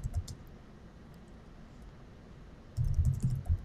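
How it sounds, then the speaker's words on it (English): Keys tap on a computer keyboard in a quiet room, a soft sparse clicking at first, then a denser, louder burst of typing near the end. "Oh, I'm typing here."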